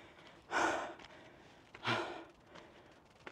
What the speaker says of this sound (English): Excuse the heavy breathing, but this is no exaggeration.